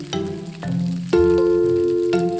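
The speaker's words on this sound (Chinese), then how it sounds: "然后起大油锅，烧热至7至8成热，高温油炸才能保证豆角香脆" Long beans deep-fry in a wok of very hot oil, giving soft sizzling and bubbling with a few sharp clinks and a louder burst partway through, with no one speaking.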